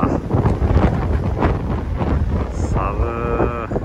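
Strong wind roars into the microphone during a winter snowshoe hike in Mitane, Akita, Japan, a loud, constant low buffeting rush with gusts, ending in a brief tonal whine.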